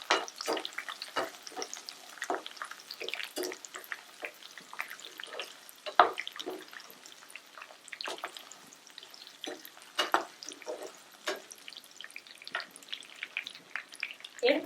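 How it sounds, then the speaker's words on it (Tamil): Dried red chillies sautéed lightly in hot oil in a pan, made for hotel-style paneer butter masala, give scattered sharp crackles and pops over a soft continuous sizzle, fairly close and steady throughout. "அதையும் லைட்டாக வதக்குங்க எண்ணெயிலே."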